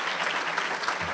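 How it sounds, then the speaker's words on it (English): An audience at a City Club civic forum breaks into applause, a dense, close burst of many hands clapping that holds steady for about a second. "Round of applause."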